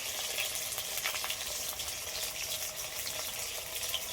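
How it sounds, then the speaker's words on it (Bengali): Potatoes, lightly salted, frying in oil in a pan for an egg and prawn coriander dish, giving a steady, close crackling sizzle with faint stirring throughout and no talk. "আলুগুলো ভেজে নেব"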